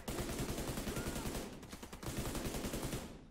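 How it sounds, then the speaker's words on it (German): Rapid, dense automatic gunfire from the video game Tom Clancy's The Division 2 rattles continuously and loudly, with a brief lull midway before resuming. "Jeder Schuss ein Treffer."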